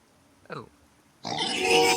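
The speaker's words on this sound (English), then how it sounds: "Didn't realize the boar was gonna chase me that far." A boar in the video game Vintage Story gives one short, low, rough grunt, followed by a loud burst of broadband rushing noise as it chases the player.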